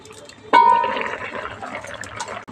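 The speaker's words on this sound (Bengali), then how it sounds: "যে এঁচোড়টা রেখেছিলাম এঁচোড়গুলো এই জলের মধ্যে দিয়ে সেদ্ধ করে দিলাম।" Pieces of green jackfruit drop into a pot of water with a sudden splash, then a bubbling, churning wash trails off at close range.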